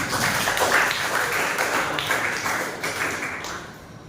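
A classroom of students applauds together, a dense burst of many hands clapping at once that holds steady for a few seconds and then thins out near the end.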